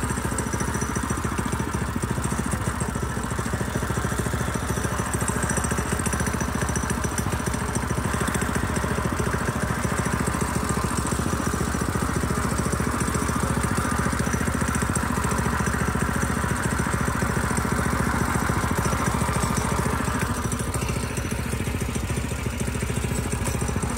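A small engine runs steadily and close by, a buzzy continuous drone that holds for the whole stretch while its throttle is adjusted, with a slight shift in pitch near the end.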